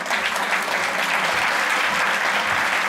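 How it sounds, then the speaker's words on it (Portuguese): Applause for the panelists after a film discussion evening, a dense, steady wash of many hands clapping throughout with no talk over it. "eu quero dar salva de palmas para os nossos debatedores"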